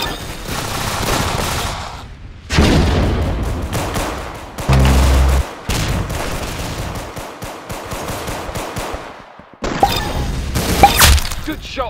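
Rapid video-game gunfire with bursts and single shots, loud and close, broken by short pauses and one heavy booming blast midway, with no talk over it.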